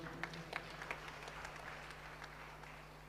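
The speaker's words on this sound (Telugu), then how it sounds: "గట్టిగా చప్పట్లు కొడదామా?" A church congregation at a Telugu sermon claps together, a faint, distant patter of many hands with a few sharper claps early on, set against a low steady hum.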